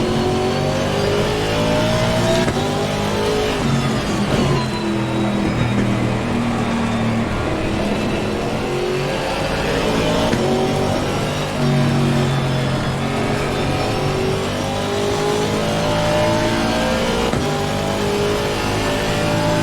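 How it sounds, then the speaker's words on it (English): A 2019 Aston Martin race car engine in Assetto Corsa Competizione, lapping Spa-Francorchamps in the rain, drones and revs steadily throughout with rising and falling pitch through gear changes, loud and continuous with no talking. "the best car sound, or maybe one of the best car sounds in games I've ever heard"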